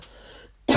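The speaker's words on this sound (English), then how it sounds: "when I cough, it's in there." One sharp, loud cough bursts out close by after a short quiet pause, with no talk during it.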